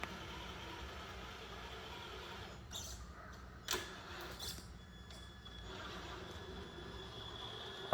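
A radio-controlled car drives around in a steady, continuous electric whir, broken by a few brief clicks and bumps midway.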